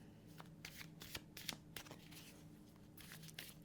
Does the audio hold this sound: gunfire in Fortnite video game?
no